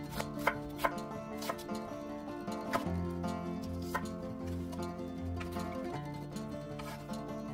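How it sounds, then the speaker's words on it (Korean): A knife slices half an onion into thin strips on a cutting board for a Korean dish, roughly a dozen crisp, fairly regular cuts over soft background music. "양파 반 개는 채 썰어주세요."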